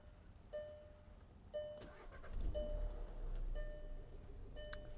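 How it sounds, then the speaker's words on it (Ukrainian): A 2013 Volkswagen Jetta engine cranks and catches, rumbling into a steady idle, with a few repeated electronic chimes sounding over it. "Так, зараз заведу автомобіль."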